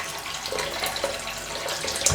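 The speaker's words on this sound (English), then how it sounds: "I'll just let this water run out first. Get some fresh water." Tap water running steadily into a bathroom sink before a wet shave, a close, continuous hiss and splash with no voices.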